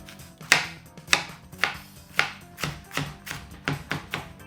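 Knife chopping an onion on a cutting board for a soffritto, about nine crisp, evenly spaced strokes, close and clear with no talking.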